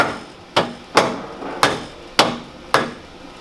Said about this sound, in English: Good old dead blow hammer, just a gentle tap.